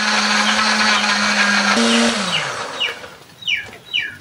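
A blender grinding spice paste with a little water whirs steadily at high speed, then its motor pitch drops and it winds down and stops, leaving faint chirping birds in the background.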